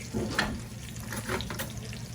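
Steak sizzles in a hot pan, a moderate crackling hiss with small bursts and pops, continuous for a couple of seconds with no voices.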